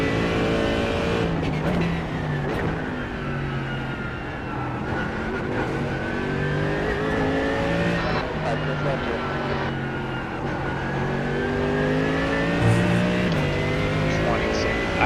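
A race car engine laps Sebring in the iRacing sim, droning steadily with rising and falling revs through gear changes, someone talking faintly under it.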